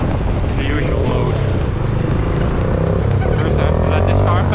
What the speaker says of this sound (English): First I have to let this car pass.